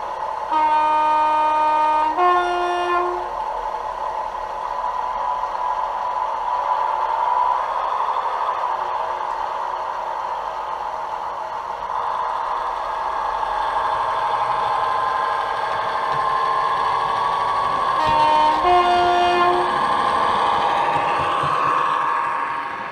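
Model railway locomotive 7013 running through its startup sequence, with steady engine drone throughout and two short multi-tone horn blasts near the start and again near the end.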